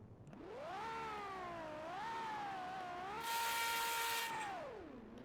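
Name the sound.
V12 car engine roaring and revving in Roblox video game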